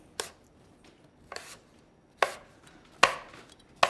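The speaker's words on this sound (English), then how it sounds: "If you were gonna cut the apple off the core for the same tart," A knife cuts an apple off its core for a tart, producing four or five crisp, sharp chops onto a cutting board at an uneven pace, close and clear in a quiet kitchen.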